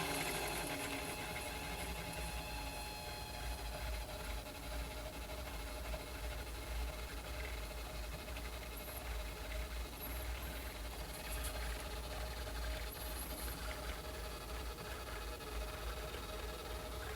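A metal lathe hums steadily at low speed, a faint continuous mechanical whir with light even vibration and no break throughout.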